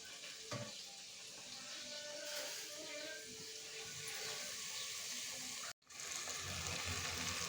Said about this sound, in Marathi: कांदा परतण्यासाठी तेलामध्ये टाकलेला आहे